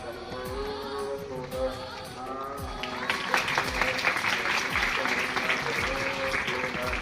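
An audience claps, a busy patter of applause that swells midway and carries on under music with a steady thumping beat.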